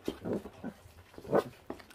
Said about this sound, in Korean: 이제 짖는다